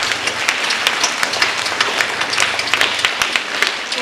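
Students and audience at an inter-school declamation clapping for themselves, a moderate burst of scattered hand claps continuing steadily without speech.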